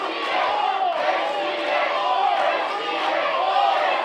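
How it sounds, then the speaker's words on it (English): Wrestling crowd at a live independent event, loud sustained cheering and chanting from a split audience, with rhythmic swells of voices close around the ring. "Well, you got a split crowd here today."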